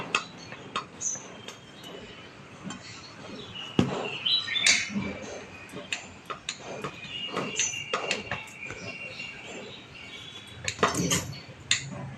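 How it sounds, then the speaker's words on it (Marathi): Moong-flour khaman dhokla cut with a knife in a tray: scattered light clicks and taps of the blade against the dish, some sharper near the end, over a quiet room with faint bird chirps. "आपण हा ढोकळा कट करून घेणार आहोत"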